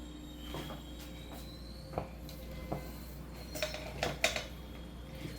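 A lid lifted off a pot of chicken curry made without sautéed onions, giving a few sharp metallic clinks and knocks of metal against metal in a quiet kitchen. The clinks cluster toward the end, with no talking.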